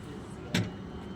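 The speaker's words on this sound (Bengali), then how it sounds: "আগে সিঁড়িটা বেরোইলো, এখন গেটটা খুলে গেল।" A new double-decker passenger train in Italy opens its door, a brief mechanical whoosh-and-clunk of the door mechanism sounding once, fairly close, against low background rumble.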